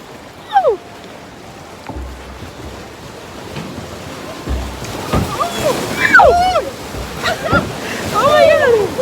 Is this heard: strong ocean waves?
yes